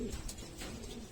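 A racing pigeon that has just arrived home from a race gives a soft, brief coo, faint and close, with low background noise.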